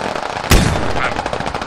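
A single sharp, loud rifle shot cracks close by in the military shooter Squad, followed by a ringing tail and a rapid rattle of further fire.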